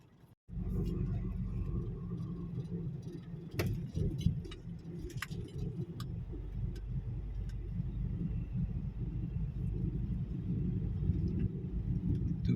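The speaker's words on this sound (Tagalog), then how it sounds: "Traffic sa bundok mga buddy." Night traffic creeps along a mountain road under repair near Santa Fe, heard as a steady low engine rumble and road noise from inside a vehicle, with scattered faint clicks and rattles and no talking.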